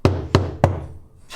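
Three sharp knocks on a car floor panel fitted with an extra layer of sound-deadening material over the factory layer, each a dull, quickly damped thud evenly spaced, close and fairly loud, followed by a short pause.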